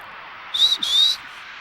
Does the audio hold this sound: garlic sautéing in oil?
no